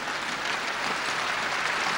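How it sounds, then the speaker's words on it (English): A large crowd in St. Peter's Square applauds after the announcement of Pope John Paul II's death, a dense, steady wash of clapping that holds without a break, with no voices standing out. "The announcement was met with applause, an Italian sign of respect"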